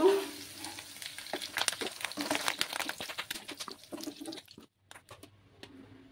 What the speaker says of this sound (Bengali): আমার আলুগুলো ফ্রাই হয়ে গেছে, এবার আমি আলুগুলো নামিয়ে নেব।